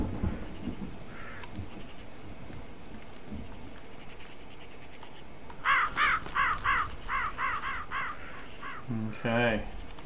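Crows caw in short repeated bursts within a horror video game, standing out clearly over a low ambient drone, followed by a lower, harsher croaking call near the end.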